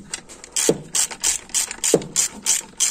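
A hand ratchet tightens bolts on an A604/41TE transmission during a home rebuild. It gives rapid, even clicking in repeated strokes, close and clear, with a soft clunk at the start of some strokes.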